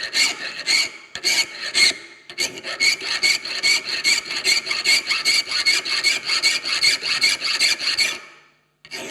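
A coarse file rasps steadily across wood clamped low in a vise to cut a half-moon shape, a close, loud run of rhythmic strokes that goes on for about eight seconds before stopping.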